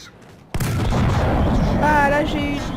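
A tank cannon shot in World of Tanks bursts in loud and sudden after a short quiet stretch, its boom rolling on through the rest of the moment with mechanical game rumble and a rising whine layered on top.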